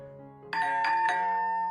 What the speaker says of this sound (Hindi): फिर से डोरबेल बजती है।